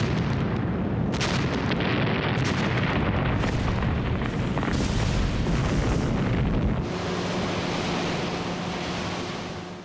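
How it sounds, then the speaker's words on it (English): Bombs dropped by carrier-based aircraft burst on Pacific atolls in 1943, a loud, rolling rumble of blasts and heavy booms that surge and overlap before easing into a lower, fading roar. "For a week, the atolls were bombed by carrier-based aircraft."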